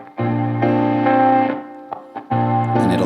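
Sustained electric guitar chords pass through delay and reverb effects, ringing loudly for over a second before the wet tail fades, a few muted touches, then another strummed chord rings out.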